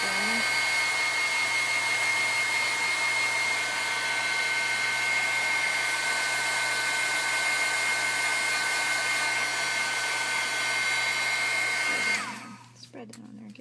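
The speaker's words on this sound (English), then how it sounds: "my dryer here, my heat tool." A heat tool used to dry paint blows with a loud, steady whine and roar that runs unbroken for several seconds before abruptly switching off.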